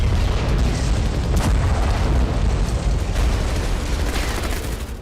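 Heavy FAB-1500 aerial bomb detonating on a front line, a loud sustained roar and deep rumbling blast that fills the whole stretch, dense and continuous, fading slightly toward the end with no speech.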